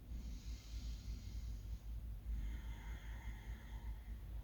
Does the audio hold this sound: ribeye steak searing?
no